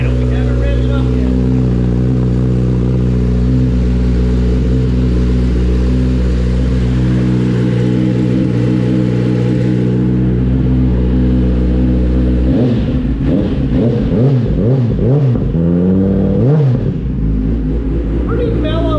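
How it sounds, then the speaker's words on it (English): A 2021 Kawasaki ZX-10R motorcycle idling close by, a steady, mellow low exhaust rumble with a brief throttle blip and wavering engine note toward the end, under a voice talking over it. "Pretty mellow exhaust system, not crazy loud at idle, which I personally like."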